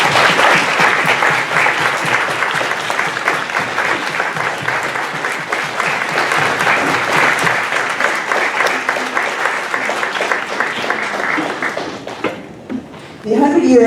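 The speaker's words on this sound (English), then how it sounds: "I want everybody to give her a big round of applause" A big round of audience applause greets a guest at a synagogue book launch gathering, steady crowded clapping that fades out near the end before a voice resumes.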